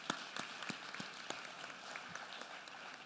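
Scattered clapping from an audience at a public education address, a few separate sharp claps that break out at a distance and trail off without building into full applause.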